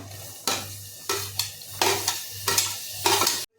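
Tomatoes go into a frying pan of spiced drumstick-leaf bhaji and are stirred, producing loud bursts of sizzling and scraping strokes repeated about five times, with a steady frying hiss between them.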